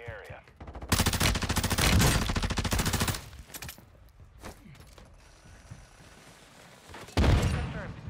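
Rapid automatic gunfire from a Tempus Razorback rifle in Warzone 2, a loud sustained burst of about two seconds followed by quieter mechanical clicks and a single short blast near the end.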